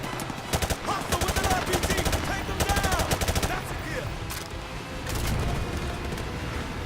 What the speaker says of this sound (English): Look at how much I am shooting these guys.